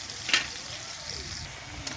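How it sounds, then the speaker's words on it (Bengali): Potato pieces fry in hot oil for a rupchanda fish curry, a soft continuous sizzle with a couple of brief sharper crackles or utensil clinks, fairly quiet and close. "যেরকম মাংসের আলু আমরা ভাজি ঠিক ওরকম আলুটাকে ভেজে নিতে হবে।"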